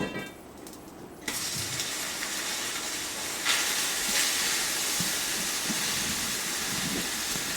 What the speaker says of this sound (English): some of the steam is going up, but some of it is being pushed and forced inside the lava and make it blow like a balloon